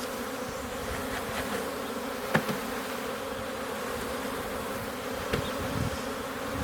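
A three-pound package of honeybees hums with a steady, dense buzz, close and continuous, with a couple of brief knocks or taps over the drone and no voices.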